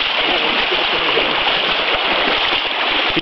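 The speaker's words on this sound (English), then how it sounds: "It's a beautiful, beautiful creek down here." A trout creek flows steadily nearby, a continuous close rushing and gurgling of water over rocks with no pause throughout.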